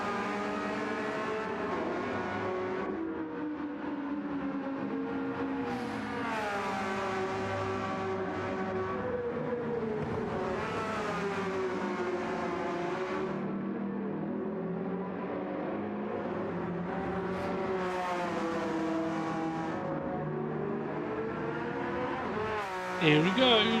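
Race cars battle on the Yas Marina circuit in Gran Turismo 7, with engines droning and rising and falling through gear changes, the tones sweeping as cars close in, under continuous commentary.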